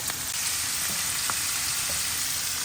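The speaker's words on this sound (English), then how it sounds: "Now we're gonna take these potatoes and put them all face down into the hot oil." Potatoes frying face down in hot oil in a skillet, a loud, dense, continuous sizzle with faint crackles and no voices.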